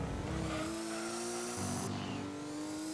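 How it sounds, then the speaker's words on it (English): Racing cars in Gran Turismo 2 simulation mode, engines droning and revving with steady tonal whine, shifting pitch midway as one car changes gear, near and loud with no talk. "they'd probably freak out at the noise the cars make"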